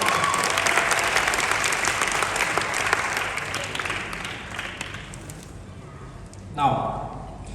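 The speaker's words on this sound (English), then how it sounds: "Can I first get a round of applause for us?" Graduation audience at a secondary school ceremony giving sustained applause, thick crowd clapping that gradually thins toward the end, with a brief thump near the close.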